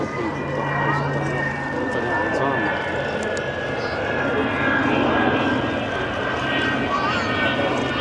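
Avro Vulcan XH558 bomber performs a flying display at the Shuttleworth Collection, its jet engines giving a steady, broad roar that holds for several seconds. Faint spectator chatter sits beneath the noise.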